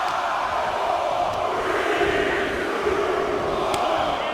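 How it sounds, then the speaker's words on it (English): An arena crowd at a wrestling event chanting a countdown together, a dense continuous roar of many voices sustained throughout, loud and slightly distant. "The crowd is counting it down."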